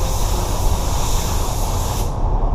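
A spray gun hisses steadily and loudly up close, laying a drop coat of three-stage pearl white paint on a repaired car bumper, a continuous airy rush that cuts off near the end.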